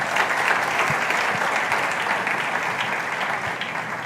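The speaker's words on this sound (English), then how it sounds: "Please, a round of applause for them right there." An audience at a youth debate grand finale applauds continuously, a dense, loud wash of many hands clapping at once that holds steady throughout.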